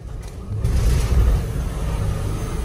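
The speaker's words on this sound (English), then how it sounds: "I can definitely hear the turbo spooling" A Mercedes Sprinter 3.0 diesel engine revs up with a low, steady rumble and faint turbo whine, building after a brief quieter start and holding loud and close throughout.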